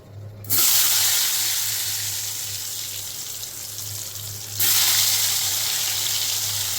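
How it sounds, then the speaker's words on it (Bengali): Slices of pointed gourd (potol) drop into hot oil over a lowered gas flame, setting off a loud, steady sizzle that jumps in intensity after a quiet start and surges again midway, with a low hum underneath. "পটল ভাজার জন্য তেল এখানে গরম হয়ে গেছে, গ্যাসের ফ্লেমটা কমিয়ে দিয়ে এখন এর মধ্যে দিয়ে দেবো"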